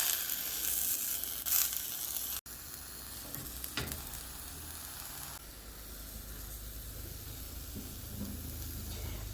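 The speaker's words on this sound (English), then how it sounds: "I'm going to sear my cabbage" Napa cabbage searing in a large cast iron skillet with a little neutral oil, a steady close hiss and sizzle broken by a sharp cut and a brief flare, then settling into even frying, no talk.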